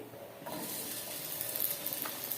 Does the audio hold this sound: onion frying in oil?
yes